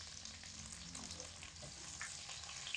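Tomato puree goes into a hot pan of vegetable stalks and potatoes, producing a continuous close sizzle and frying hiss, with light stirring scrapes throughout.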